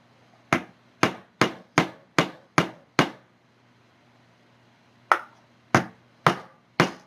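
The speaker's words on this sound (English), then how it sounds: "I'm going to use my piece of brass to hammer it in all the way." Sharp metal-on-metal taps as a piece of brass drives a nylock nut home on a hard cutting board: seven quick strikes in an even rhythm, a pause, then four more, loud and close with no talking.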